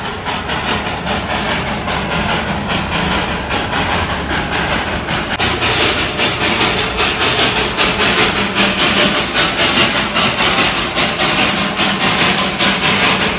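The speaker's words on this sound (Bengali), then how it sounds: "সাথে রয়েছে এই যে টয় ট্রেন।" The Darjeeling toy train passes close by in a loud, steady mechanical rumble, with a rhythmic clatter growing in the second half.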